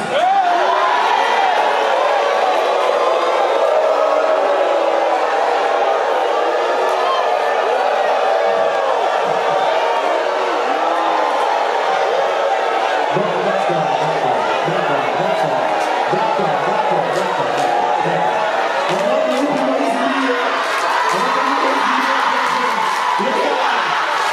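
A crowd applauds and cheers for a pastor at a Congolese gathering, a continuous roar of clapping and voices with whoops and shouts rising in the second half.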